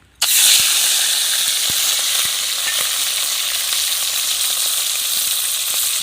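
Prawns frying in hot oil for a Bengali echor chingri dish, a steady loud sizzle that starts abruptly and holds throughout, with faint scattered pops and crackles and no talking.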